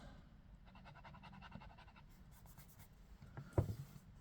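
A Jinhao 92 fountain pen with a number 5 steel fine nib scratches across paper in quick, rhythmic strokes, faint and close, followed by a short louder tap or rustle.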